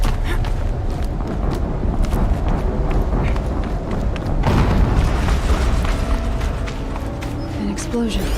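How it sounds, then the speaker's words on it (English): A dense, rumbling roar fills the scene in the game Horizon Zero Dawn on PS5, with a heavier surge about halfway through as an explosion booms over continuous low gameplay noise. "An explosion."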